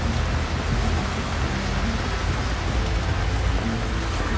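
Heavy rain drums on a market stall tent in a steady, dense roar that stays loud and unbroken throughout, with no voices over it.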